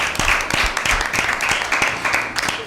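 Crowd clapping for a correct answer at an Easter Bible quiz show, a dense, steady patter of many hands with sharper individual claps cutting through, sustained throughout at moderate loudness.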